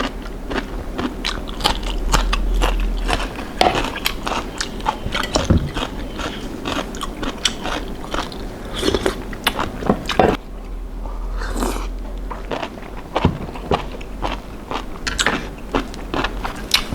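Crunchy jellyfish salad dressed with sesame oil being bitten and chewed up close, a steady run of wet crunches and crackles with a brief quieter pause near the middle and no talking.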